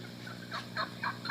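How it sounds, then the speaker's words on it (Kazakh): A young hawk chick gives a few short, faint cries in quick succession over a quiet hum. "Мынау Молли, қаршығаның балапаны."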